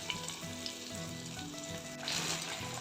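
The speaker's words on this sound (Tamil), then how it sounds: "ஃபிஷ் கிரேவி நல்லா கொதிக்குது" Steady bubbling and sizzling of a thick tamarind fish gravy boiling in a pan, continuous and close, with a brief louder hiss near the end.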